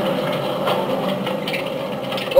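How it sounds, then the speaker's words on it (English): Mine carts loaded with silver ore rumble through a tunnel in a Bolivian mine, a steady clattering mechanical grind with rattling metal, moderately loud and continuous throughout. "It's the rumble of the carts."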